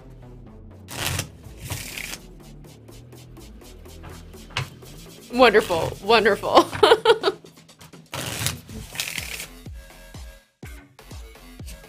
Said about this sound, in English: We're shuffling extra diligently.